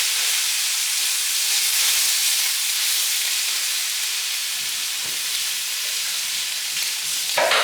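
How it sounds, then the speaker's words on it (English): Pieces of butter chicken fry in hot oil in a pan, giving a loud, steady, close-up sizzle with a continuous hiss and faint stirring scrapes near the end. "Sizzling away."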